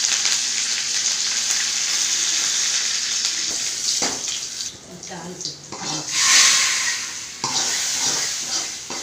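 Spices for sambar tempering crackle and sizzle in hot oil in a continuous hiss, with a louder spattering burst partway through and a voice speaking over it.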